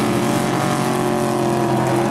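Pack of race cars roars off at the start of a race, a loud, dense engine drone with layered revving tones filling the whole moment, close and continuous.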